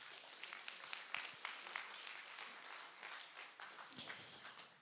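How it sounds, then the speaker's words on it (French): Quiet congregational applause during a Sunday church celebration, a soft, irregular patter of many hands clapping with sharper individual claps scattered through, heard from some distance. "On peut applaudir celui qui peut tout."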